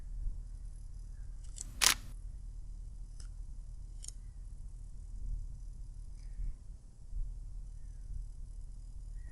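A single crisp camera-shutter click while photographing the super moon, followed by a couple of faint ticks, in an otherwise quiet outdoor hush.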